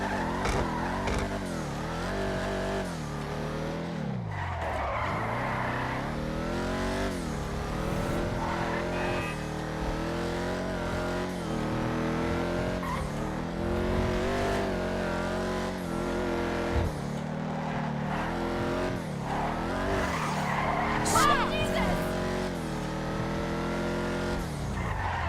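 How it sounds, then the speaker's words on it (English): A Vapid Dominator GTX muscle car engine in GTA 5 roars and revs continuously, with tyres squealing and skidding through hard cornering, like racing gameplay. "This sounds like any other regular muscle car in the game."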